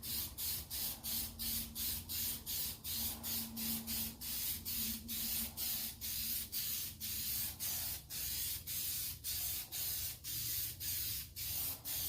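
Stove Bright spray paint hisses from an aerosol can in a quick run of short, rhythmic bursts, close by and steady, with no talking over it.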